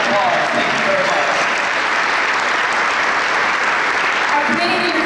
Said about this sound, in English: please give the committee a round of applause